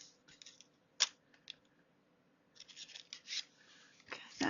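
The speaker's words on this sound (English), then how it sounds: "now we're going to cut one more set of mushrooms." Scissors cutting mushroom shapes out of paper, soft close snips and rustles in uneven clusters, fairly faint in a quiet room.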